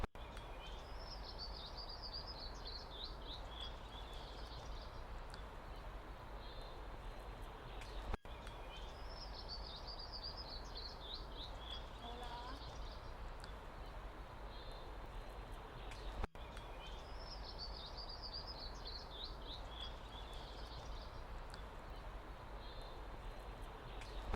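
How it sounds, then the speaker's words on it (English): A bird sings a short trilling phrase every few seconds over quiet outdoor ambience, faint and distant, with no voices. "No traffic noise, no rush, just the wind and the birds."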